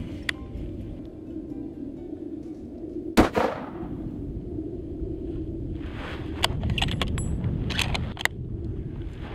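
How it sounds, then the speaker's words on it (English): One sharp, loud report from a Remington 7mm magnum rifle fired outdoors while sighting in its scope before a deer hunt, standing out briefly over steady background noise, followed by faint clicks and metallic handling sounds. "we're gonna go fire a couple shots and make sure it's on for the hunt"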